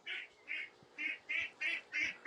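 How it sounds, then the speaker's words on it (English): A duck quacks six times in a steady, evenly spaced series, loud and close, with no other sounds around it. "I've got a duck coming through,"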